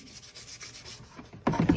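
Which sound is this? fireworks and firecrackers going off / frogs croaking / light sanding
light sanding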